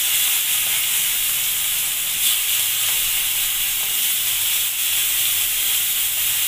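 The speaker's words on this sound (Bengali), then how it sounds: "তেল গরম হয়ে গেছে, এবার চিংড়ি মাছ দিয়ে দেব।" Prawns fry in hot oil in a village-style pan, giving a loud, steady, close hiss of bubbling oil that runs unbroken with only slight swells in intensity.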